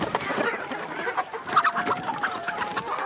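Four young chickens, about ten weeks old, clucking in a steady run of short calls, fairly close and continuous, with a faint thin tone running beneath from about halfway through.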